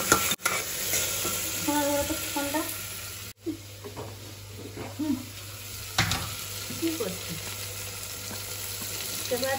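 Tomatoes sizzle in a hot pan for spicy tomato rice while a spoon stirs them, giving steady frying crackle with repeated scraping strokes close by and no talk.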